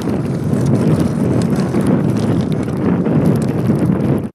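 Strong winter wind buffets the microphone on a frozen lake during ice fishing, a dense, continuous low roar with gusty rumble throughout.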